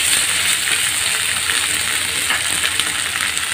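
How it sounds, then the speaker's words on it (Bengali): Ginger, garlic and cumin paste fries in hot oil for a chicken bhuna, a loud, steady close-up sizzle with faint stirring scrapes and no talk. "এখন এগুলো কিছুক্ষণ তেলের মধ্যে ভেজে নেব।"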